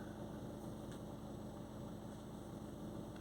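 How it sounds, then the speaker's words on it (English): A Volkswagen Tiguan engine idles during a DPF pressure test, giving a steady, even low rumble that holds at constant loudness throughout with no voices. "Now it's going to check the pressure at idle, let the engine idle,"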